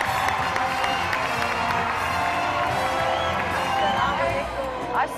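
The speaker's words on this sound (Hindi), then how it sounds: "लेडीज एंड जेंटलमैन, आपकी तालियों में नताशा हुसैन।" A studio audience at an Eid special television show breaks into sustained applause and cheering, a dense, steady wash of clapping and shouts lasting throughout.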